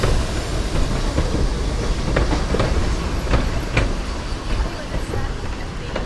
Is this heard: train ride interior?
yes